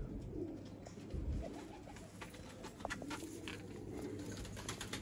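Soft, low cooing from Sialkoti pigeons repeats over a background hum, with faint rustling and occasional chirps.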